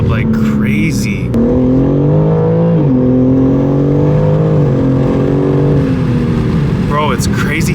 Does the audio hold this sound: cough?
no